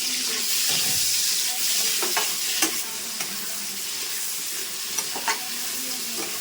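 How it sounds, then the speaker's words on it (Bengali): Onion and tomato frying in hot oil in a pan give a loud, continuous close sizzle, with a few sharp scrapes and taps of stirring over it. "তো দেখো এবার পেঁয়াজটা দিয়ে আমি টমেটোটাও দিয়ে দিলাম"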